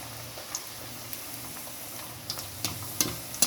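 Poori fries in hot oil while oil is ladled over it, giving a steady soft sizzle with small crackles and light splashy pops, growing busier toward the end, close and moderately quiet.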